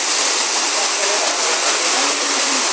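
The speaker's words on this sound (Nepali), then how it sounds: "साथीहरु अहिले पानी पऱ्यो" Steady rain pours near a hostel building, a dense broadband hiss that stays even and unbroken throughout, with no voices over it.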